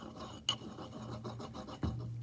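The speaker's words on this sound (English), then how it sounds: "I'm really trying to grind at the sides" A pestle grinds a thick powder mixture against the walls of a mortar during pharmacy compounding, making a steady close rasping scrape with two brief louder knocks, and no talking.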